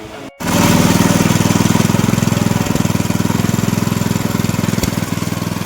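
A small engine-driven cutter machine starts with a brief stutter, then runs loudly and close by with a steady, rapid chugging pulse during mini tractor repair.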